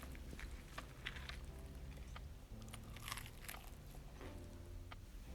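Crispy fried chicken is bitten and chewed close to the ear, giving a run of sharp crunches and crackles over a faint background hum.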